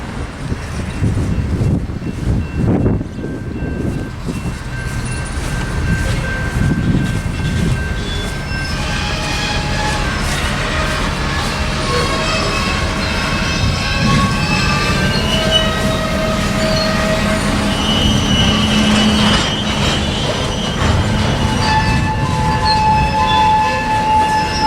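Union Pacific 4141, the George H.W. Bush locomotive, works through Marshalltown Yard with a steady rumble of rolling rail cars, wheel squeal and clanks, heard fairly close and continuous without talk.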